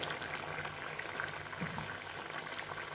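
A Bengali fish curry (machher jhal) of fried fish bubbles and simmers in a pan, giving a steady close-up burbling boil with small pops, with no talking.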